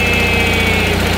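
An Onan 6,500 watt gasoline RV generator running steadily, a loud, close, continuous engine drone with an even pulsing throb and no voices.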